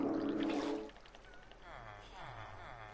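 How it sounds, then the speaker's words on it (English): Bucket of water poured out in Minecraft, a brief liquid splash and gurgle early on, followed by quieter watery bubbling at moderate level. "Just need a bucket of water real quick."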